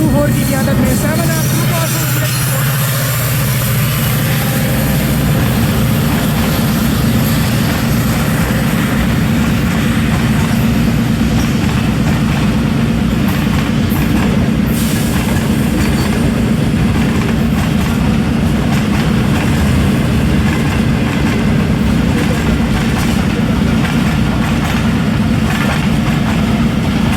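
Bulleh Shah Passenger train, a Pakistani service from Lahore to Kasur and Pakpattan, running behind HMU 8224 with a steady loud rumble and rhythmic rail clatter throughout, a voice talking over it.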